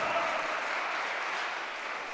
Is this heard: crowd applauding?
yes